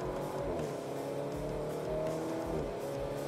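A Maserati Grecale SUV with an automatic gearbox accelerates hard, its engine note climbing and dipping through quick successive upshifts, heard close and steady without speech.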